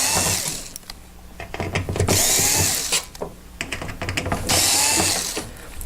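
A power drill backs screws out of the side panel of an infrared heater, with loud close bursts of whirring and ratcheting broken by short pauses, and several runs in a row.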